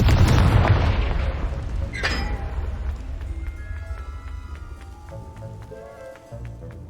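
Hogwarts Legacy Confringo fire spell detonating: a loud opening boom that rolls and fades over several seconds, followed by a second smaller burst and scattered crackling, clicking debris and game ambience as the blast dies away.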